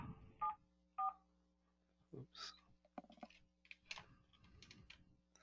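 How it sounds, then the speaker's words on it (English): Two short keypad tones beep in quick succession as *74 is dialed on an Epygi IP phone, followed by faint clicks and soft rustling handling noises in a quiet room. "And I can dial"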